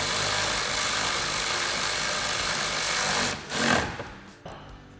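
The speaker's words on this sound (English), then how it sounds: "So now we're going to fully tighten our hardware, securing our rear windshield to our roof." A power tool buzzes steadily up close while hardware securing a rear windshield to the roof of a Honda Talon 1000 is tightened, then cuts off with a brief whir and a couple of clunks near the end.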